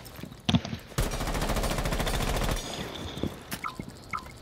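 A rapid burst of automatic gunfire in Rainbow Six Siege, a fast even rattle of shots lasting about a second and a half, preceded and followed by a few isolated sharp shots and faint clatter.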